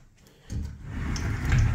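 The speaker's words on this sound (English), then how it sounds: "brand new door, so just easily just rolled" A brand-new sliding closet door in an apartment bedroom rolls open after a quiet start, a smooth rising low rumble that grows steadily louder, with no speech.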